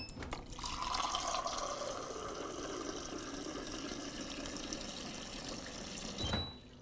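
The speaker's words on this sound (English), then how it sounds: "push the fill button and see exactly how much water we're going to dispense" Steady stream of water from a refrigerator water dispenser running into a cup for about six seconds, continuous and close, ending abruptly with a brief click.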